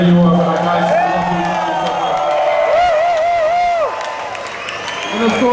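Crowd applause and cheering at an Armada club night during ADE 2013, a broad wash of clapping with whoops, under a sustained singing or talking voice and music tones.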